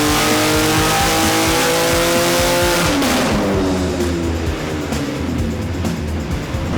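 A BMW S58 engine car on an intercooler test run in North Hollywood revs hard, rising to a loud high-pitched wail around three seconds, then settling into a lower, steady roar.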